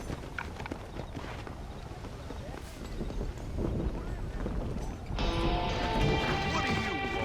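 Hooves of a horse clip-clopping in Red Dead Redemption's Blackwater, a rapid rhythmic thudding that builds in the middle before music swells in, with a voice faintly present.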